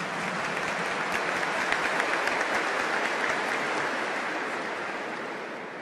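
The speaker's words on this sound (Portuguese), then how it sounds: "aquela salva de palmas, calorosa, fraterna" A congregation at Mass in the Basilica of Aparecida applauds in a dense, continuous wash, steady and somewhat distant, with the roomy sound of a large hall.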